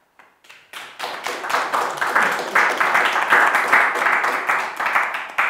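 Audience applause greeting a guest at a talk event, starting with a few scattered claps and swelling into steady, close, rhythmic clapping that holds to the end.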